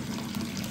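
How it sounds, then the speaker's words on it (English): Water pours steadily during an aquarium water change, a brief, soft, continuous gush of running water like a tap filling a tub. "doing quick water change on them"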